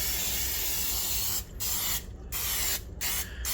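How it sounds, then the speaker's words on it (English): Canola oil is sprayed from a can onto a hot cast iron pan in short hissing bursts, a loud close aerosol spray broken by brief pauses into several distinct blasts. "so I'm going to take and spray it with a little canola."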